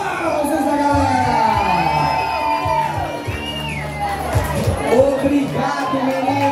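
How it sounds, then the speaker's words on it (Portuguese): Spectators cheer, whoop and shout at an award ceremony for a 2024 running race in Artur Nogueira, with lively crowd noise and excited voices that peak and fade. "Recebam os aplausos da galera!"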